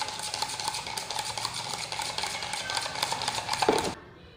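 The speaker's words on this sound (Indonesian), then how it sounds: "Jangan lupa teman-teman kita aduk biar merata." Steady scraping and clinking of a utensil stirring water into a hand sanitizer gel mixture in a container, a continuous rhythmic rattle that stops abruptly near the end.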